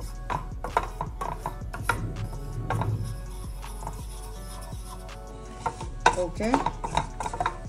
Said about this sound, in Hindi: उसको बहुत अच्छे तरीके से हम सिम आँच पे कम से कम 4 से 5 मिनट के लिए भूनेंगे